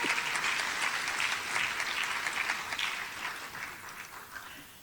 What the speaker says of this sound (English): Let's give a round of applause for Ms. Tayana Ames for being recognized as Moten's Teacher of the Year.